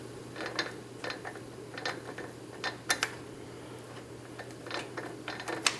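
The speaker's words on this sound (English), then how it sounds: "I'm gonna kick that starter gear out" Starter gear on a golf cart motor being knocked out of place, giving a series of light metallic clicks and ratcheting snaps that come in scattered bursts, close by, over a steady low hum.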